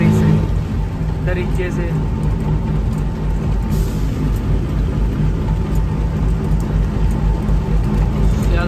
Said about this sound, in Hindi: तूफान, बिजली, कड़ाके, ये देखो भाई बिजली बड़े खतरनाक